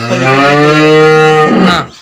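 A black dairy cow that calved about ten days earlier lets out one long, loud, deep moo close by, holding steady for over a second before trailing off.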